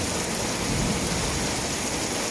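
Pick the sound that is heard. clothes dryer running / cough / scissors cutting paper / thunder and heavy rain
thunder and heavy rain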